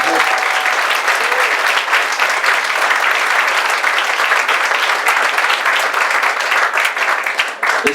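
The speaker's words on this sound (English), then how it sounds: "can we just give a round of applause for these guys?" Loud, dense applause from an audience at a Design Thinking Miami event, honoring the organizers; clapping stays steady and close throughout, with faint voices mixed in.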